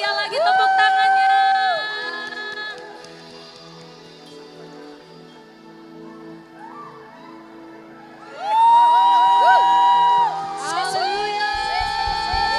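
Wedding guests at a church ceremony cheer, whoop and shout in loud bursts at the start and again near the end, with crowd babble in the quieter middle.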